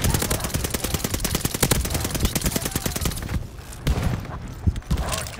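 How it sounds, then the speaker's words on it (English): Video game combat shotgun fire in a rapid burst of repeated sharp blasts, loud and close, followed by scattered shots and clatter. "combat shotgun."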